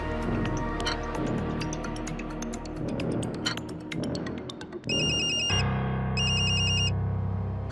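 A mobile phone ringtone plays at length, a bright repeating melodic pattern with clinking tones and short pauses between phrases, loud and close, with no talking.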